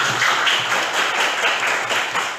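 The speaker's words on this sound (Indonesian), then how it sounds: "silakan tepuk tangan buat mereka" A classroom audience applauds students who have just presented on the development of democracy, a steady, close patter of many hands clapping throughout with no break.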